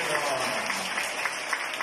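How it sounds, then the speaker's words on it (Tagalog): A church congregation at the last night of simbang gabi claps in a continuous, moderately loud patter of many hands, with some voices mixed in. "Daanin natin sa palakpak, pumalakpak ang mga nakakompleto."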